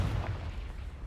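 A Confringo spell blast in Hogwarts Legacy, a brief heavy rumbling boom with deep low-end energy that sustains evenly across about a second.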